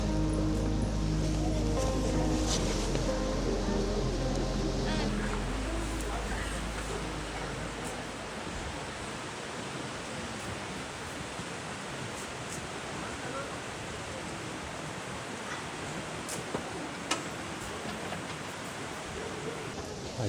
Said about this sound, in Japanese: はい、那智の滝到着です。